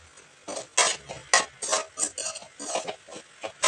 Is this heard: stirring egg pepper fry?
yes